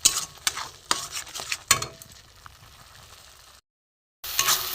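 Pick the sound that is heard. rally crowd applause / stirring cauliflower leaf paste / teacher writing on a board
stirring cauliflower leaf paste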